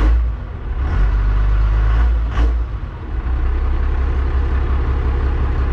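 A Dodge pickup's first-generation 12-valve Cummins diesel heard from inside the cab, a loud, deep, steady rumble with a couple of brief throttle surges early on.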